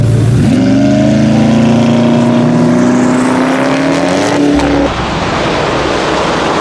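A group of five or six Koenigsegg supercars roars past close by, one loud engine note climbing steadily in pitch for several seconds before cutting off abruptly, leaving a wash of road and wind noise.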